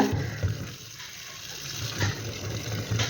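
Water sloshes and splashes steadily, with a few louder swishes as gooseberries are rinsed in a bowl, no voices.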